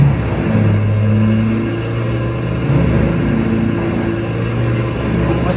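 A wood chipper runs at the job site, a loud, steady engine drone close by as it shreds a large tree branch into mulch, with no talk.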